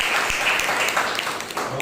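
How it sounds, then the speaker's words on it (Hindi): Congregation applauding during a Sunday morning church service, a dense steady wash of clapping from a crowd, sustained and even, with faint voices mixed underneath. "अर्चना जी के लिए जोरदार तालियां हो जाए।"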